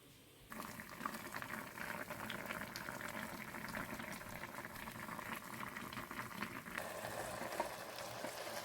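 Watermelon peels boiling in water for murabba, a steady, close bubbling simmer that starts suddenly and continues evenly throughout, with no talk over it.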